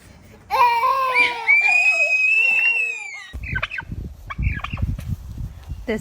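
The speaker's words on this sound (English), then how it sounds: "This is the infamous turkey." A farm turkey gobbling loudly and close in a rapid warbling burst, followed by scuffling, handling noises and a voice as kids meet the bird.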